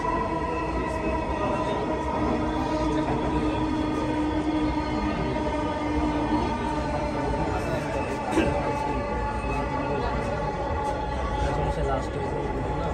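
Metro rail train running on the Dhaka line between Pallabi and Agargaon, a steady loud rumble of wheels and motors heard from inside the carriage, with a faint talking voice over it throughout.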